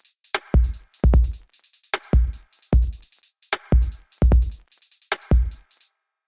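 A randomized step-sequencer drum pattern plays in a clean electronic loop of punchy kicks and crisp hi-hats in uneven, syncopated bursts, loud and dry, stopping abruptly near the end.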